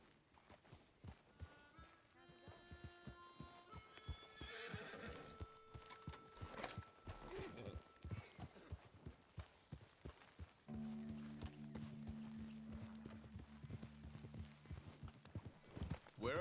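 A horse in Red Dead Redemption II trots with rapid, close hoofbeats throughout, with a loud neigh early on and game music notes layered over the hooves.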